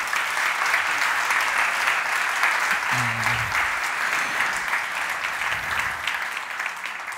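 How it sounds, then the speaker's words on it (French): An audience at a large conference on the Heart of Jesus applauds warmly for the speakers, a steady, dense wash of clapping that holds evenly throughout with no voices over it. "Je vous demande de les applaudir très chaleureusement."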